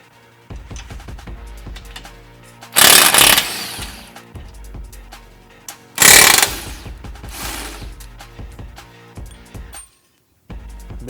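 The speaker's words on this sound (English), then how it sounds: "we have our Makita Impact with the 19mm socket on the end, and we'll go ahead and take these off" A Makita impact wrench with a 19mm socket hammers off wheel nuts on a Polaris RZR XP1K in two loud, rattling bursts, each a couple of seconds long, between quieter mechanical clicks and handling noise.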